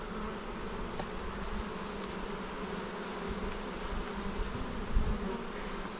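Honey bees at an open hive during a beekeeping inspection make a dense, continuous buzz, close and steady throughout with no talk.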